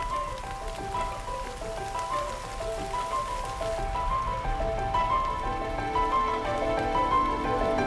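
A summer rain shower falls in the woods, a soft steady patter of drops on leaves and ground heard alone, with a faint ringing musical tone running underneath.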